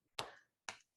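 Two sharp, dry claps land about half a second apart, close and crisp, each with a short decay and no other sound between them.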